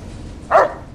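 A single short dog bark from the Fallout New Vegas video game, one sharp woof near the middle of the second over a faint low background.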